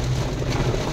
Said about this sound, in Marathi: पाऊस पण थोड्याच वेळात इतक्या जोरात चालू झाला आहे की समोरचं काहीच दिसत नाही आहे